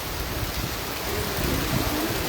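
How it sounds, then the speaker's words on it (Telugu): Heavy rain pours down steadily in a village area, a dense, loud hiss that swells slightly toward the end, with no talk over it. "ఇక్కడ వర్షం ఫుల్గా చాలా హెవీగా పడుతుంది."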